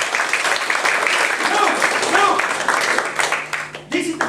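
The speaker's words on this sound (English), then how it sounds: "Get ready to applaud" Audience applause at a magic show during an arts festival, loud dense clapping swelling across the room, with cheering and voices mixed in and a brief dip near the end.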